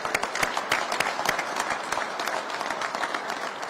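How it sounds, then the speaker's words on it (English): Scattered applause from a modest crowd at a public funding announcement, individual claps distinct and uneven, moderately loud and close. "That's worth applause."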